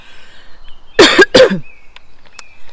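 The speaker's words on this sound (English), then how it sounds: "making me want to cough" Two sharp coughs close together, near and fairly loud, followed by quiet room tone.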